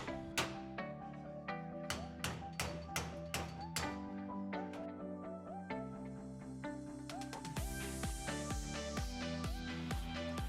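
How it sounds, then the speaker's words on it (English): Repeated sharp metallic taps and thuds, some fast and some spaced, ringing with a tonal clang, growing louder and busier toward the end, as spline bolts are hammered out of a front strut on a 2014-2020 Ford F-150. "Hammering out the spline bolts will make it easier to reinstall the strut"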